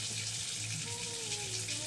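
Tap water runs steadily onto a cutting board to wet it before cleaning, a soft continuous faucet splash heard fairly quietly and alone.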